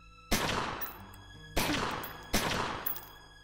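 Three sharp pistol shots from the Omerta: City of Gangsters game sound close and loud, each with a short echoing decay. They are spaced unevenly about a second apart, with no talking.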